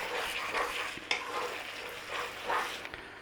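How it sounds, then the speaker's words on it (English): A spoon stirs simmering tomato sauce in a pan, scraping and swishing in uneven strokes over a low bubbling sizzle, close and moderately loud with no talking. "Give it occasional stir so it doesn't stick"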